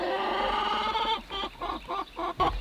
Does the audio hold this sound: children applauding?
no